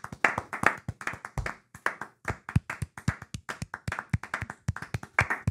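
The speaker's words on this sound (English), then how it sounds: "just a 10-minute clap." Podcast hosts clapping their hands together in a quick, uneven series of close, sharp claps with brief gaps, with no talk over them.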